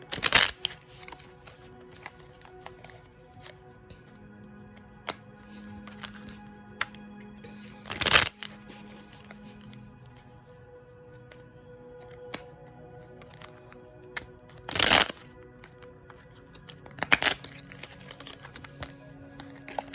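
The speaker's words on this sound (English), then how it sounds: "I'm going to shuffle like 3 more times." Tarot cards are shuffled in several short, crisp riffling bursts, separated by quiet pauses with faint handling noise.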